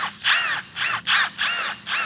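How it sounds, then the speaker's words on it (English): Power tool backing screws out of a pump front cover on a twin-turbo diesel BMW, five short loud whirring bursts with pitch rising and falling, separated by brief pauses, close up. "I'm gonna remove the screws and see if we can get the O-ring."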